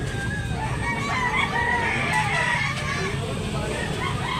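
A rooster crows at a chicken market in Tabunok, Talisay, Cebu, loud and steady against a busy crowd with clucking hens and children's voices around it.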